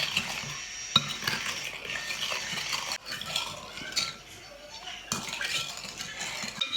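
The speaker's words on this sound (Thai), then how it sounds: "คนให้แป้งกับน้ำเข้ากันค่ะ" A utensil stirs a thin flour-and-water batter steadily in a bowl, with soft scraping and occasional light clinks against the sides.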